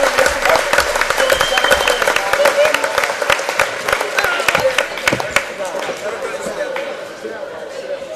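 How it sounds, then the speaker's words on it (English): Crowd applause at a youth CYO boys basketball championship awards ceremony, honoring the St. Max team as tournament champions; steady clapping across the whole stretch, with chatter and a voice mixed in over it. "Clap it up, everybody, for St. Max"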